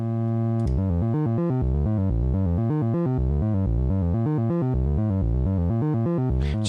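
A modular synthesizer sequence loops rapid, evenly pulsed bass notes in a repeating electronic pattern, steady and unbroken throughout.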